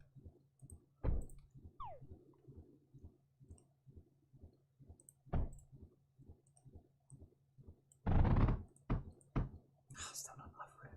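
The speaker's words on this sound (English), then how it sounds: "Kitten walking delicately across the keyboard." Small irregular clicks and soft taps of a kitten's paws stepping delicately across a computer keyboard, a quiet steady patter of light keystrokes with a few louder thumps, heard close up in a quiet room.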